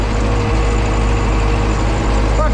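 An MTZ 82.1 tractor engine runs with a drill seeder attached during soybean sowing, a loud steady low rumble with a constant drone, close up and unbroken, with no voices.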